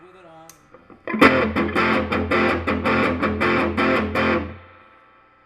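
Someone speaks briefly, then a distorted electric guitar through a Fender Champ 12 tube amp with the bright switch on plays a rhythmic series of chunky, bright chords for a few seconds before ringing out.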